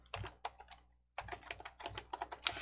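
Quick keystrokes on a computer keyboard as a file name is typed, bright clicky taps in a short flurry, a brief pause, then a denser run of keys, close and alone.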